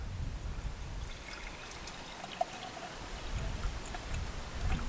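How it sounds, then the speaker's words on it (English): Fresh Yorkshire water pours steadily into the base of a stovetop espresso maker outdoors, filling it to just below the safety valve; a continuous close trickle and splash runs throughout, with no voices. "we fill the espresso maker up just below that safety valve"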